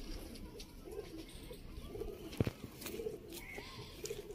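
Pigeons kept by a fancier in Sialkot, Pakistan, cooing softly at close range: a few low, rolling coos repeat over a faint background hum.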